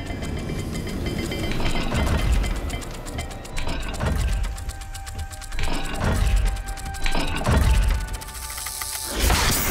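A puzzle dial in Hogwarts Legacy turns with repeated ratcheting clicks and grinding gear movement, coming in several bursts of mechanical clatter separated by short pauses, close and fairly loud.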